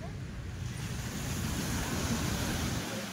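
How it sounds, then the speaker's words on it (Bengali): Sea waves roll in at Girgaon Chowpatty beach in Mumbai at night, near moored fishing boats, making a continuous low rumbling surf roar mixed with gusty wind noise. "আর ঢেউগুলো তো জোরে জোরে আসছে"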